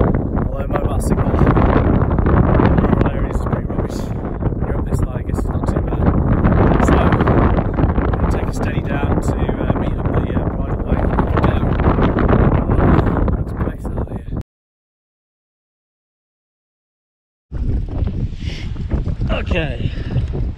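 Loud, roaring wind on a mountain pass in the Lake District buffets the microphone almost continuously, cutting out briefly to silence before gusting back in.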